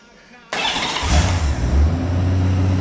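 A 1988 Honda Goldwing GL1500 motorcycle cranks and fires on full choke, catching abruptly after a quiet moment and settling into a loud, steady, rumbling idle close by.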